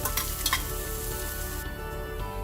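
Onions with a pinch of garam masala fry in a pan, giving a close, continuous sizzle with stirring scrapes and a few soft clinks, and no voices.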